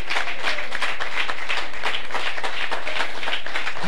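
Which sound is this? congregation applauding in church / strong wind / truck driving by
congregation applauding in church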